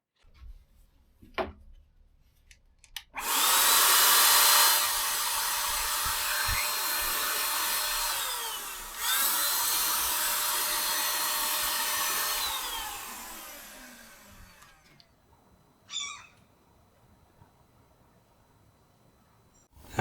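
A Parkside PFSA 20 Li B2 cordless paint sprayer runs in two loud, steady bursts of hissing, whirring spray lasting roughly twelve seconds, with a brief dip between them, then cuts off, leaving faint handling clicks.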